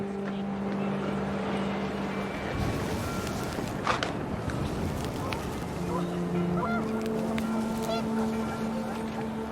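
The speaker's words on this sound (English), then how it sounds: "The wind picked up, and panicked geese appeared and quickly went." Panicked geese honk in a windy outdoor scene from the video game What Remains of Edith Finch, with several calls rising over a steady rushing wind bed and the game's musical tones, moderately close and brief.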